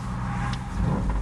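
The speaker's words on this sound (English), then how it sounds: "You hear the exhaust." A 1995 Dodge Ram 1500 4WD SLT pickup with custom exhaust and MSD ignition rumbles with a deep, steady exhaust note, loud and close, with a slight swell toward the end.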